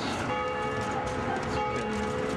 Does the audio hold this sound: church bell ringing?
yes